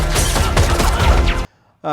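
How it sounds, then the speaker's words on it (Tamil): Dense, continuous gunfire from the opening action scene of the Tamil film Madharasi, with loud overlapping bursts for about a second and a half. A sudden silence follows before a tonal sound comes in. "துப்பாக்கி சண்டைகளோட இந்த படம் ஆரம்பிக்குது"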